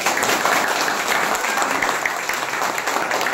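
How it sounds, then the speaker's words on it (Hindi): An audience applauds during a speech, with continuous, fairly loud clapping that stays steady across the moment and has a hint of crowd noise beneath. "क्या तालियां?"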